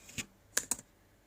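Three quick clicks of computer keyboard keys being typed, close and fairly clear, spread across a short stretch with quiet between them and no talk.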